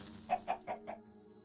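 Chickens in the video game Minecraft cluck four times in quick, evenly spaced bursts, clear and close, then go quiet.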